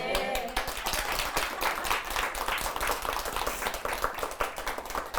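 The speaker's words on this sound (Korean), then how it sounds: "박수를 많이 치셨으니까" Steady, moderately loud clapping from an audience at a Buddhist lecture, many hands beating in a dense, even patter throughout with no speech over it.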